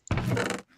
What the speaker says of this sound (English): Horses now have a new feeding sound,